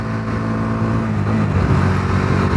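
A Bajaj Dominar 250 motorcycle ridden fast, its engine a steady, loud, close drone with wind rush throughout, rising slightly in pitch toward the end.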